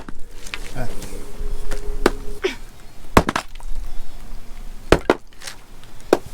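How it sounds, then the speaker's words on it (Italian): Firewood being split outdoors with a wedge and sledgehammer, sharp metallic strikes ringing out at irregular intervals, with a voice talking between the blows and faint wood-cracking sounds. "Uno lo pianta e poi con la mazza tum tum tum e lo spacchi pian pianotto"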